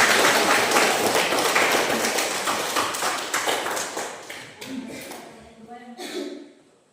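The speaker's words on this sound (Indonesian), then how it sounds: "Mari kita berikan aplaus." Students in a classroom applaud after a group presentation, a dense burst of clapping that gradually thins and fades over several seconds as voices rise near the end.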